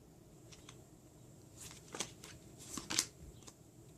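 Tarot cards are shuffled and drawn, making a quiet flurry of soft riffling and flicks that builds into a few crisp card snaps near the end, close and faint.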